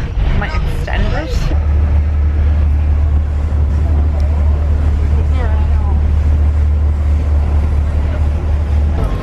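Low, steady engine rumble of a boat throughout, with wind buffeting the microphone and people talking over it.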